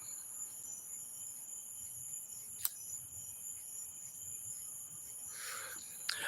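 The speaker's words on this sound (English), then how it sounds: "I know the mosquitoes are a little loud" Insects buzzing outdoors at night, a steady high-pitched drone that carries on without a break, with a brief sharp click partway through and no voices.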